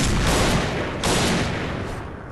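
Chain Slugger gun in the Point Blank shooter game firing a rapid, dense burst of loud shots, two close volleys in quick succession with no pause for talk.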